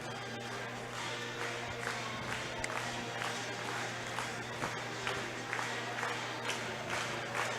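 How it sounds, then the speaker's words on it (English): Home crowd at a high school girls basketball game between the Girard Trojans and St. Mary's-Colgan Panthers, a steady murmur of voices with scattered claps and cheers rising under a constant low hum. "trying to get the home crowd fired up, and pretty good crowd on hand for this girls game."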